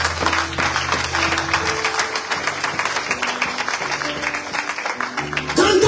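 A church congregation applauds together, a dense, steady wash of clapping throughout, with a low hum underneath and a louder swell at the very end.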